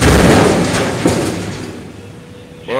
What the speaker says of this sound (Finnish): välillä kuuluu kovia pamahduksia, kun siellä ruvettiin lastaamaan tota rakennuskerrostalojätettä